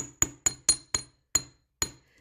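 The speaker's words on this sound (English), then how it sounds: "just straighten the wire with the flat end of the hammer" A hammer's flat end taps wire on a small anvil resting on a cloth, making crafting earrings: six sharp metallic clinks at an uneven, unhurried pace, close and fairly quiet, each ringing briefly.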